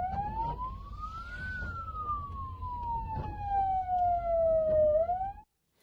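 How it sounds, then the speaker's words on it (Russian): An ambulance crew with flashing lights and its siren on pushes through a street traffic jam. The loud, continuous wail sweeps slowly up and down over the low rumble of traffic and cuts off abruptly at the end. "Бригада медиков спешила на вызов с включенными проблесковыми маяками и спецсигналом."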